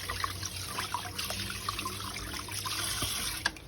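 Tap water runs and splashes in a sink while milkfish is rinsed, a soft steady trickle with small clinks and splashes, fairly quiet.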